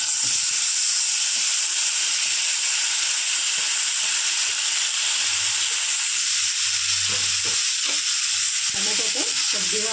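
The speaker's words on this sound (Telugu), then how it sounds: "ఇందులోనే కొద్దిగా ఆయిల్ వేసి ఇప్పుడు టమాటో వేసుకుంటున్నా." Tomatoes fry in oil in a pan with a steady, dense sizzle and hiss throughout, close and continuous, with faint clinks and stirring sounds underneath.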